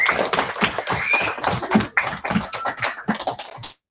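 Students at a Holocaust Remembrance Day talk give their speaker a short round of applause: a small group claps close and unevenly for a few seconds, then it stops abruptly.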